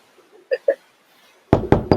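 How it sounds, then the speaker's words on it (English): Knocking on a door in a staging of Macbeth: two light raps, a pause, then three heavier, sharper knocks close by. "Knock, knock, knock."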